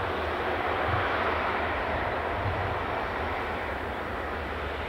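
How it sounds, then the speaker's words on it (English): A Ryanair aircraft pushes back at Edinburgh Airport, giving off a steady, broad engine roar that holds at an even level throughout, with no talking. "I can see a Ryanair pushing back."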